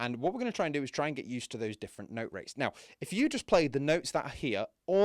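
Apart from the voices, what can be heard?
None of the usual background noises is heard.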